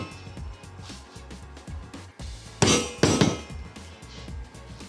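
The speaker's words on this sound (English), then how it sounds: "So the ball will drop through, and we've got what's called a 3 joules and then a 10 joules." Test ball dropped onto a panel in an impact tester, with a few sharp, bright impacts clustered near the middle amid quieter background clatter and small knocks.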